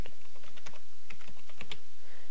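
Quick bursts of clicky keystrokes on a computer keyboard, close and crisp, typed in uneven clusters with nothing else heard.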